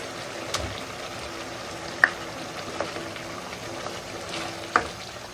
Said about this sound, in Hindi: घी हमने डाल दिए।